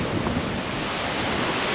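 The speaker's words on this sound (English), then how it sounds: "It's a little windy at Lake Michigan" Strong wind buffeting the microphone on the Lake Michigan shore near Chicago, a steady loud roar with surf washing underneath, no voices.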